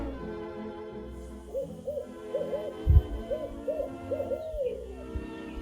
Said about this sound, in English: There's an owl we hear sometimes. It has the funniest call.